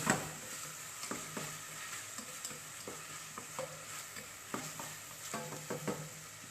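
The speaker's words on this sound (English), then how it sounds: "now I'm going to add capsicum in it, saute a little bit more" Capsicum sautéing in a pan makes a quiet, steady sizzle with frequent light stirring taps and scrapes of a spatula, close with no voices.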